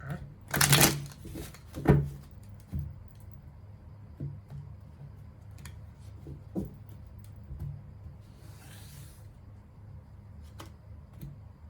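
Tarot cards being shuffled, close and soft, with a few quick riffling bursts early on, then quieter sporadic card handling and taps.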